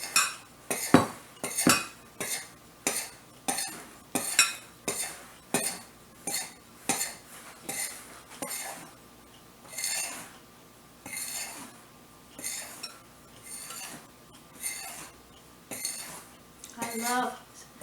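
Chocolate cake batter is stirred by hand with a utensil in a bowl, producing a long run of regular clinks and scrapes, roughly two strokes a second, close and clear, slowly easing in strength.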